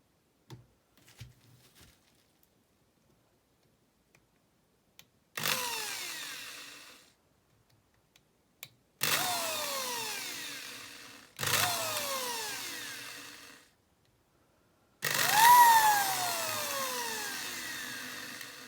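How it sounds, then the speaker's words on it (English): A drill bores into perspex in four separate bursts, each a whining spin that drops in pitch as the bit slows, with faint taps and clicks in the quiet gaps between them. "So a little bit of drilling, you might want to block your ears."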